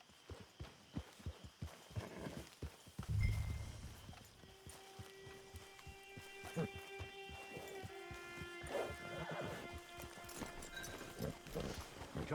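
Horse hooves clip-clop at an easy walking pace in Red Dead Online on PS5, a steady run of close, hollow knocks under soft tonal game music.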